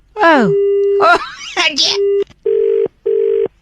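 A phone line tone follows a hang-up on a prank call: a voice speaks briefly, then a steady tone sounds and becomes two short, evenly spaced beeps of a disconnected line.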